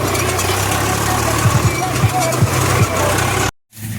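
A tractor and an Usha 44 harvester run during a paddy harvest in Punjab. Their steady, droning engine hum continues under talk and background noise, broken by a brief dropout near the end.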